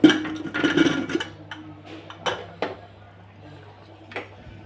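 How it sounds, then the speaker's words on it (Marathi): A pressure cooker lid is worked open after the whistles are released, with metallic clanks, clinks and scraping of the steel lid and pot in a home kitchen, loud at first and then sparse knocks; a voice is briefly heard. "कुकरच्या शिट्ट्या काढून घेते चला कुकर उघडून बघू"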